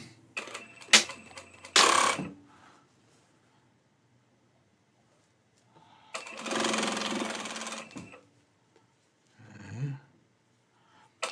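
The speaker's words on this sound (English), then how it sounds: "We'll do the main stitch first on both sides." A sewing machine stitching the main seam of a shirt made from scraps, running in short bursts and a longer steady whirring run, separated by quiet pauses, close up.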